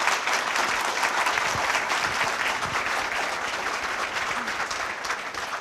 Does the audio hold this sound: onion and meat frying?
no